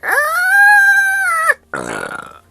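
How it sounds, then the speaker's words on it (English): One long, loud, drawn-out tonal burp lasting over a second, then a shorter rougher gurgling burp after a brief pause. "With a burp."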